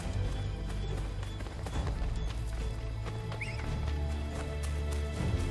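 A horse gallops in Assassin's Creed 3, its rapid clip-clop hoofbeats close and steady under a low rumbling game soundscape, with no talk.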